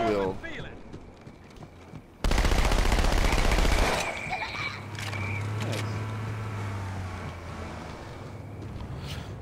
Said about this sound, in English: Damn it, I'm out of submachine gun ammo.